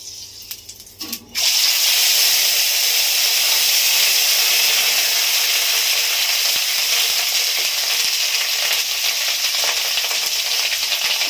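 Onion paste hits hot oil in a pan for a pointed gourd dorma, bursting into a loud, steady sizzle after a brief quieter moment, with continuous hissing frying throughout and no talking.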